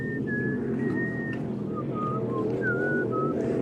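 Someone whistles the Harry Potter theme, a thin, wavering tune of several notes over a low background hum and rustle on a boat.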